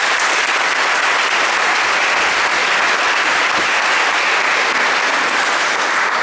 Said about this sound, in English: So our first recipient, a round of applause please for Shelley.